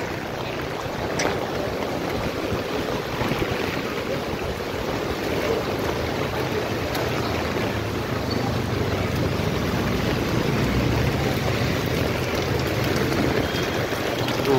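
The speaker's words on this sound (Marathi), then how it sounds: "ऐकत नाही पाऊस." Heavy rain driven by wind, a dense, steady roaring wash that fills the whole stretch without letup, close and loud with no talking.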